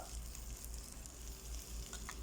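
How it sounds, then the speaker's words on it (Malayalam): Chopped onions fry in a pan for a beef and tapioca dish, a faint continuous sizzle with a low steady hiss and small crackles, no talking. "എന്നിട്ട് നമ്മൾ അരിഞ്ഞു വെച്ച സവാളയും കൂടെ ഇതിലേക്ക് ചേർക്കുക"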